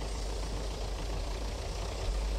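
A tractor engine idles steadily, hitched to a mobile milking machine on an Irish farm in 1977, a constant low rumble and drone throughout with no pauses.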